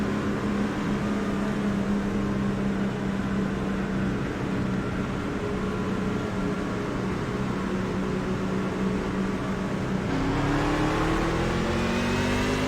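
A race car in the iRacing sim at Charlotte pulls away under hard throttle with its tires spinning, a loud continuous engine drone whose pitch climbs sharply in the last few seconds, with no voices.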